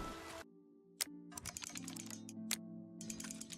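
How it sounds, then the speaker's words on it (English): Small quick clicks and ticks of a lockpick working a lock in Oblivion Remastered come in bursts with short pauses, close and clear over a low steady hum. "When it gets stuck, it really slows down the clicking sound."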